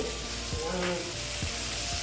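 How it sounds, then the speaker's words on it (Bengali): Sliced onions sizzle steadily in hot oil in a pan for an egg curry, a close, continuous crackling hiss with faint scraping stirs now and then. "আমার পেঁয়াজটা প্রায় অনেকটাই ভাজা হয়ে গেছে"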